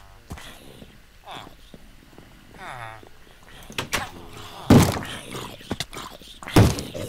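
A zombie banging on a wooden door in Minecraft: a few heavy thuds, two of them loud, under French speech and scattered game noises.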